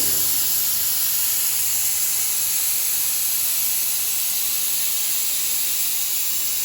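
Steady, continuous hiss of a spray gun spraying primer without pause, loud and close, with no voices.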